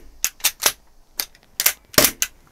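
Airsoft gas pistol firing during a secondary regulator test with the gas set around 50, giving about seven sharp, snappy shots in two quick bursts of three and four at close range, with no talking.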